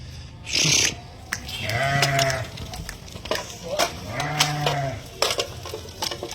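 Sheep in a flock of ewes and a ram bleating, two long drawn-out bleats close by with shorter animal calls and a voice speaking between them.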